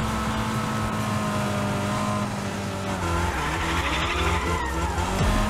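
A racing car in Fortnite Rocket Racing drifts, its engine droning steadily while tires squeal and skid in long, rising screeches, loud and close, with no talk over it.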